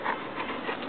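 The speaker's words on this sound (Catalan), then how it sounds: "Aquest gosset." A small dog pants steadily in a garden with faint whimpering mixed in, a soft, continuous close breathing rhythm with no talk over it.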